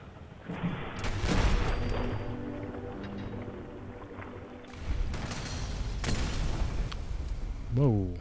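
Frag grenades going off in Fallout 4: deep booming blasts arrive in a couple of heavy bursts amid combat noise, with voices heard between them.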